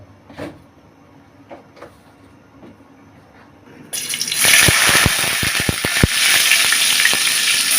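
Chopped onion and bay leaf hit hot oil in a frying pan for a spiced chickpea dish. After a few quiet seconds a loud, close sizzle bursts out and keeps crackling steadily to the end.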